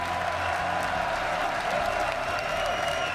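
A large French crowd cheers and applauds continuously at the 2015 World Championship quarterfinal draw. The sound is loud and dense, with a steady roar and no breaks.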